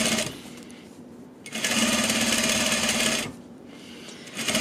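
Sewing machine stitching a zipper into a jacket or sweatshirt, its motor running in two steady bursts of rapid, even stitching separated by short pauses, close and clear with no talking.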